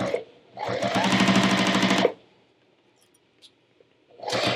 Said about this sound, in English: Now I'm going to take this to the sewing machine and I'm going to edge stitch around all four sides